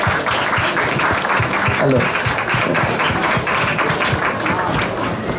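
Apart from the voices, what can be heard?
applause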